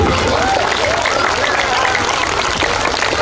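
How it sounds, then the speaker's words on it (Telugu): A school audience claps loudly and steadily at a speech event, a dense wash of applause filling the whole moment with faint voices mixed in. "వీళ్ళందరూ కూడా ఒక్కసారి గట్టిగా చప్పట్లు కొట్టండి"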